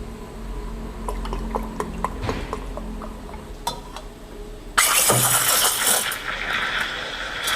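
An espresso machine's steam wand steams Anchor milk for a piccolo latte, a soft background hum with small clinks before a loud sudden hiss bursts in and continues steadily to the end.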